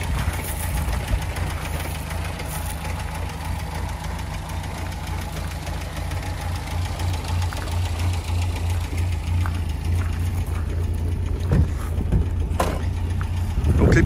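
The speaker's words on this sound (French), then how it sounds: "Et je vais vous démarrer la belle. Contact. Ça démarre au quart de tour." A 1960 MG MGA Mk1 1600 roadster engine starts and idles steadily with a low, even rumble and light knocking, running continuously close by.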